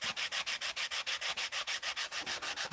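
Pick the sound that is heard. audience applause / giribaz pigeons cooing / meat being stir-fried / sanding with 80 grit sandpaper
sanding with 80 grit sandpaper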